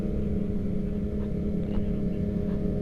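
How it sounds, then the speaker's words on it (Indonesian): An engine revs on a street, a continuous low mid rumble with slight swells, close and steady for a few seconds, no clear talk over it. "Ayolah, Raul, geber Raul."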